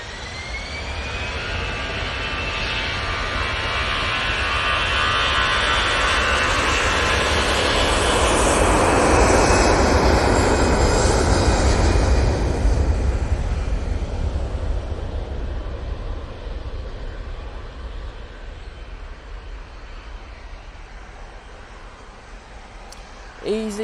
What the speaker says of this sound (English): Easyjet, now on the roll, off to Catania.